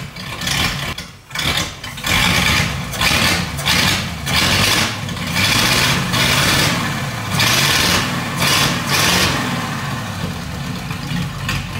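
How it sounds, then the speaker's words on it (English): An old flathead engine in a 1932 Ford Coupe, found in a dairy barn, runs at a loud, rough, uneven idle with a lumpy, pulsing rhythm close by. "making an old flathead motor run"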